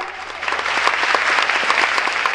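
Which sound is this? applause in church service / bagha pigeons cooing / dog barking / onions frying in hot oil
applause in church service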